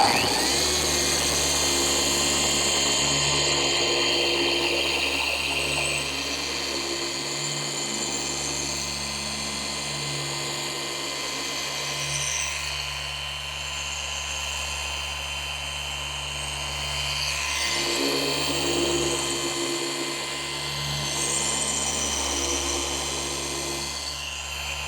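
A Rupes dual-action polisher set to speed 4 runs continuously with a steady, loud motor whine and a low buzzing drone that dips briefly twice, and no one speaks.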